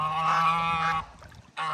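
A goose honks loudly and close, one long harmonic call followed by a brief pause and a second honk starting, with no talking.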